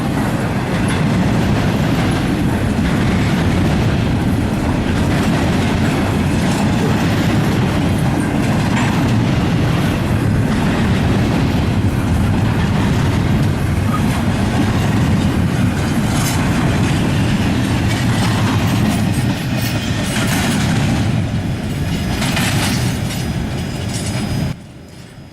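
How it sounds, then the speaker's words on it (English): A westbound intermodal freight train rolls past close by, a loud continuous rumble with rail clatter and faint wheel squeal throughout, ending abruptly. "another intermodal train, this time heading westbound, came on through"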